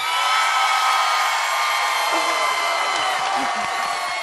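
A large live crowd cheers and whoops at a Houston Texans event in Sugarland, a loud, steady roar of voices that stays dense from start to finish with a few brief shouts rising out of it.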